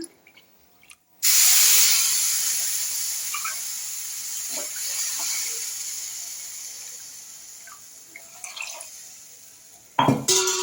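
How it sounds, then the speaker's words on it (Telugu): Water poured from glasses into a hot pan of roasted semolina for sweet rava kesari, a sudden loud steady hiss and spray that slowly fades over several seconds, with faint stirring clinks and a sharp clatter near the end. "మూడు గ్లాసులు వాటర్ అయితే పోస్తున్నాను"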